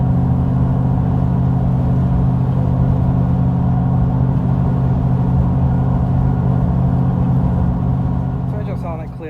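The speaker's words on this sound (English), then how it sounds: "So here's your in-cab road noise, at least on OBS." Steady in-cab road hum and tire drone from Milestar Patagonia MT mud-terrain tires at 65 mph, a constant loud low rumble with engine noise beneath and no radio or air conditioning running.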